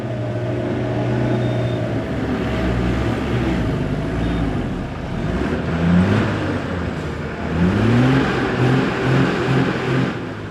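A truck with worn tires struggling for grip in mud on the Leh-Manali Highway, its engine droning and then revving repeatedly in rising surges, loud and near, with no talking.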